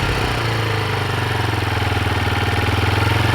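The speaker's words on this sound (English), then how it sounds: "Now I want you to roll the throttle a little bit and hold it just a little bit, okay?" A motorcycle sitting in neutral runs close by with the throttle held just slightly open, a loud, even, pulsing engine drone that swells a little toward the end, with no one talking.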